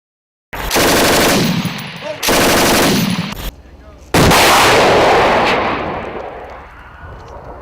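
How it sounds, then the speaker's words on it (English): IDF 30mm grenades strike inside a compound amid gunfire: very loud, close bursts of rapid automatic fire and heavy impacts, with the last blast booming and rumbling away slowly. "IDF 30mm grenades hitting inside the compound, getting close, real close"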